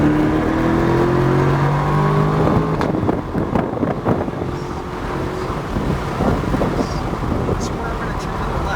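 A Corvette accelerates at full throttle on the New Hampshire Motor Speedway track, its engine note climbing under heavy rushing wind noise, loud and close throughout.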